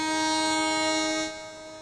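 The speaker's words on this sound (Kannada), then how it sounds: "ಟ್ರೈನ್ ಹೊರಡ್ತಾ ಇದೆ." A train pulling out of a station: a sustained, tonal horn or whistle blast with steady harmonic layers, loud and close, easing down near the end, with no voices.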